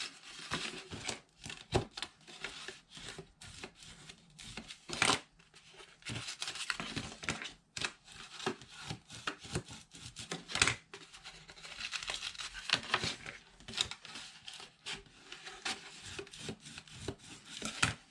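Paper flaps of a handmade Chinese takeout box are folded and creased by hand, producing continuous close crinkling, rubbing and soft tapping with frequent sharp presses.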